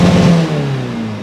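Tuned VW 1.9 TDI diesel engine in a Caddy pushed to 200 horsepower, loud and close, revving hard with a deep droning note that falls back as the revs drop, no talking.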